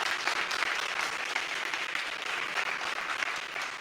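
Sustained crowd applause in a theatre hall at a pitch competition award moment, dense even clapping throughout at moderate level.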